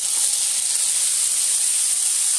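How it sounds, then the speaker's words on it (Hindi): Mushrooms frying in hot oil give a steady, even sizzle, a continuous bright hiss without pauses. "एबे छतु को तेल रे पकेदेवा।"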